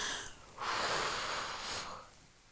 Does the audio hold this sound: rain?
no